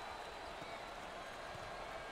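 A sellout crowd at a March Madness NCAA tournament basketball game, Miami versus Seton Hall, roars and cheers steadily in a dense, continuous wash of noise with some applause and no clear break.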